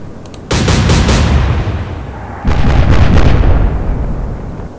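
4.7-inch naval guns fire high-explosive shells in Atlantic Fleet, two loud heavy salvos about two seconds apart, each a deep booming blast that rolls and slowly fades.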